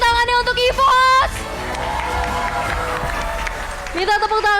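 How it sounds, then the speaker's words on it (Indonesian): Crowd at an esports event claps for the EVOS team, a broad mid-level wash of applause and murmur running beneath an announcer's voice and bursts of music at the start and end. "untuk Kingdom, boleh minta tepuk tangannya untuk EVOS"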